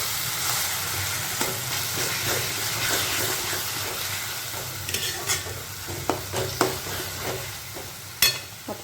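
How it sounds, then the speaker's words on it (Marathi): Mashed eggplant bharit sautéing in a pan, Khandeshi style, a steady soft sizzle with occasional spatula scrapes and knocks that grow sharper toward the end. "टाकले मी आता भरीत असं परतून घेऊ आपण"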